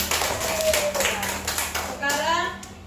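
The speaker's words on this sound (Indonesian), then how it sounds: "Tepuk tangan untuk Atala." Children in a classroom break into applause, a burst of rhythmic hand claps with excited young voices and chatter mixed underneath.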